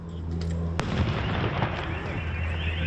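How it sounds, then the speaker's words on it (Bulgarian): Bomb squad sappers set off a controlled detonation of luggage left in a suspicious white van at Sofia Airport: one sharp blast followed by a rolling, noisy rumble that fades slowly. "А през това време сапьори взривиха багажа, оставен в съмнителния бял бус."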